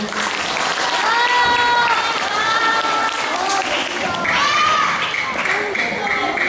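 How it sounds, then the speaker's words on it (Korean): Audience applause at a Korean youth talk on AI diplomacy by the VANK cyber diplomacy group, welcoming a guest speaker; steady, dense clapping fills the whole stretch at close range with crowd voices and cheers mixed in. "박수."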